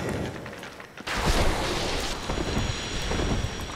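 A lightning attack in Dark Souls Remastered lands as a sudden loud crackling blast, followed by a sustained rumbling roar that slowly fades.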